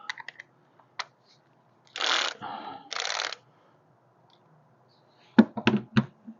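A socket ratchet loosens 12 mm bolts on a 2014 Kia Sportage, with a few scattered clicks followed by two short ratcheting bursts in the middle and a cluster of sharp clicks near the end, close and clear.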